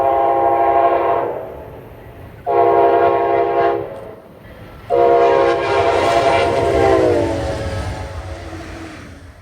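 An Amtrak train led by a P42 locomotive sails past the platform at Old Saybrook, Connecticut, sounding three loud, close horn blasts over a rumbling roar of passing cars.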